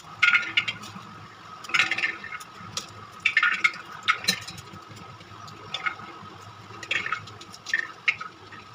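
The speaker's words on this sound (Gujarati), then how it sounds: "હવે આપણે વટાણા ફોલી લઈ." Green peas being shelled by hand for undhiyu, with repeated crisp pod snaps and rustles at a steady rhythm over faint kitchen background noise, no talking.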